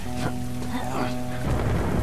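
Thunder and rain in The Last of Us: continuous rain wash with a deep thunder rumble swelling near the end, while low in-game hum and faint sounds sit beneath.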